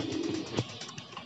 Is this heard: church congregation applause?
no